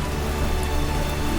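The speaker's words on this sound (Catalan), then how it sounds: "Aquí està començant a ploure ja, mireu com cau l'aigua" Steady rain falling, a dense even hiss of drops outdoors on a walking trail, continuous and fairly loud with no talking.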